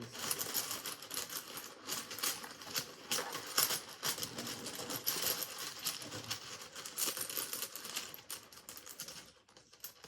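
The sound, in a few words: rune stones being rustled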